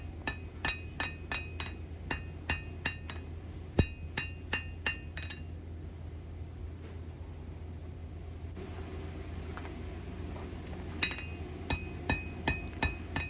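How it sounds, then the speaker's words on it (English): Hammer forging a small high carbon steel everyday-carry knife blade on an anvil: rapid bursts of sharp ringing metallic strikes, a pause in the middle, then another quick run of blows, close and alone. "I'm not using the hammer much to hit the edge side of the blade, but I am using the face of the anvil to even things up"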